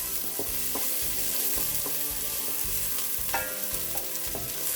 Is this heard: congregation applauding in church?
no